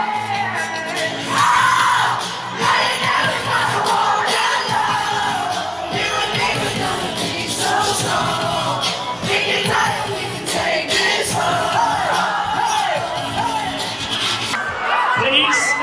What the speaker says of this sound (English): the largest cheer ever.